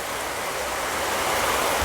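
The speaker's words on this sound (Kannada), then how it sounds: "ಇವತ್ತು ನಂಜನಗೂಡಲ್ಲಿ ಭಾರಿ ಮಳೆ ಬೀಳ್ತಾ ಇದೆ" Heavy rain with gusting wind pours down in Nanjangud, a dense, steady hiss of falling water that grows slightly louder, close by and with no voices.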